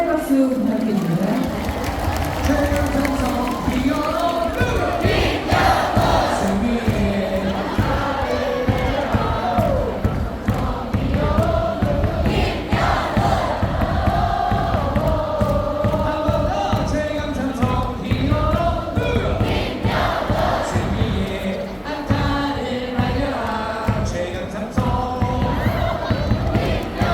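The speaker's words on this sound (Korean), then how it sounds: "박수 부탁드립니다." A baseball stadium crowd at a 2024 KBO playoff game cheers, chants and claps rhythmically during the post-game award ceremony, loud and sustained, with a voice over the PA and rhythmic thumping throughout.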